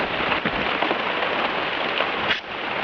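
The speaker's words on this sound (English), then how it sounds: "And now it's raining / snowing," Rain mixed with sleet falls steadily on a hillside at just above freezing, a dense, continuous hiss of drops striking surfaces, fairly loud and even throughout with a brief sharper patter near the end.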